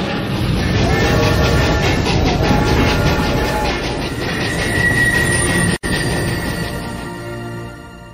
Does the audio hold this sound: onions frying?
no